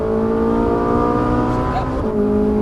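Ferrari 458 Italia engine holding a steady, smooth drone through a track corner, close and continuous with a slight dip in pitch near the end, while an instructor's voice talks over it.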